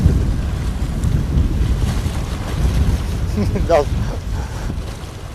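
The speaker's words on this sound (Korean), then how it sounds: "시간이 갈수록 부는 바람이 더 기승을 부리기 시작한다" Strong wind at sea roars steadily and loudly into the microphone, mixed with sloshing waves against a boat, with a faint voice briefly audible partway through.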